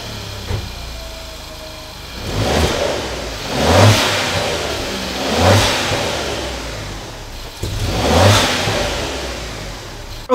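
Alfa Romeo Giulia Quadrifoglio engine fitted with recirculating GFB DV Plus blow-off valves, revved in three or four loud rising bursts, each swelling and falling back to a steady idle between them, with the valve venting muted.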